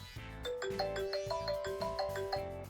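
Phone ringtone set off by the find-phone feature of a Tozo S5 smartwatch, a bright melodic electronic tune of repeating tones playing at moderate volume with no talk.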